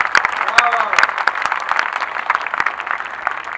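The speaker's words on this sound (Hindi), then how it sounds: "एक बार सभी जोरदार तालियां इसरो के लिए बजाइए।" Enthusiastic audience applause for ISRO at a Hindi comedy show, dense continuous clapping from a large crowd that stays loud and steady throughout.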